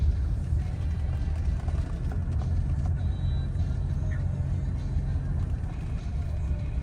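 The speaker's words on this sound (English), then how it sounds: "This is our dusk evening version of 1983 turbo diesel." A 1983 Mercedes-Benz 300CD turbo diesel drives along, heard as a steady low interior rumble and road noise, moderately quiet and continuous.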